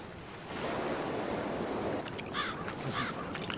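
Surf washing onto a Peruvian beach rolls in as a steady broadband roar, swelling slightly midway with wind buffeting the microphone and a few faint crow caws on top, no voices.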